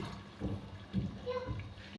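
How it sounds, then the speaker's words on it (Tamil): Water is poured into a pressure cooker for vegetable biryani, a soft splashing, gurgling pour in pulses that stays fairly quiet and close over two seconds. "அதுக்கு 3 டம்ளர் தண்ணி ஊற்றுறேன்."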